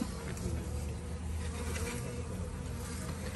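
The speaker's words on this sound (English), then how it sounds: "Get these bees off the frame." Dense, steady buzzing of many honeybees being shaken and scraped off a top bar hive frame at close range, a continuous low drone with no voices over it.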